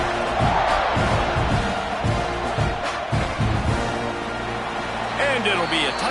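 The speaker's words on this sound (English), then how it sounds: "this crowd is buzzing after that last score" Dense stadium crowd at a rivalry football game buzzing loudly and steadily just after a touchdown, a broad roar of many voices that fills the space with no break.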